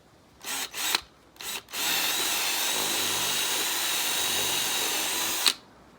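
Power drill boring into wood with a drill bit on a jonboat build: a few short bursts of the motor, then one sustained high whirring bite into the wood for several seconds before stopping abruptly.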